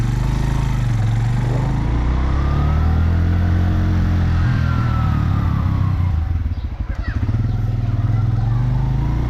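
A Suzuki GS 150 motorcycle being ridden, its engine a low, smooth, fairly quiet hum that rises and dips slightly with throttle, close by, with a voice talking over it at times.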